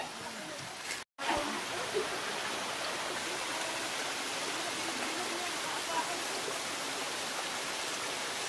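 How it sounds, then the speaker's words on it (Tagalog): Steady rushing water flows continuously, a soft, even hiss with no pauses. "Ito na ang"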